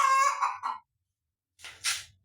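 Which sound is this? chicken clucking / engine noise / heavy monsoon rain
chicken clucking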